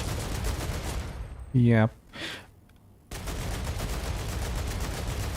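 Sustained automatic gunfire from a gun in the video game StarRupture, a dense loud rattle that breaks off for a moment while a voice briefly speaks, then resumes.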